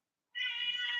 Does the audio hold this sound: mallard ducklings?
no